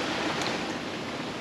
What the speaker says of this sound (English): slamming in, and some waves get in on the spray route